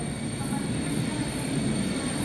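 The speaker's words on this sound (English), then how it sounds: "there's the train's coming. WHOOSH, the high speed train." The WHOOSH high-speed train on the Bandung to Jakarta line pulls into a station with a steady, loud rumbling roar and rail hiss that holds evenly throughout.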